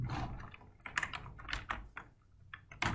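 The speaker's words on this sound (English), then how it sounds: "Okay, so I'll just type in" Fingers type quickly on a computer keyboard while code is entered in Matlab, a close, crisp run of uneven clicks and key thumps with brief pauses between bursts, no talking.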